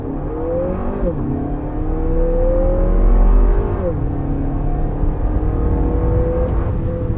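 A Lexus NX 350 engine revs up through the gears, pitch climbing then dropping at each shift, loud and steady with a rough, throaty tone.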